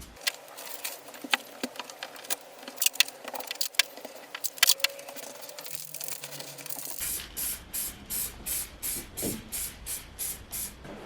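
Spray paint is applied to Honda Civic parts. Scattered knocks and handling noises give way to a close, steady run of short, regular hissing bursts from the can.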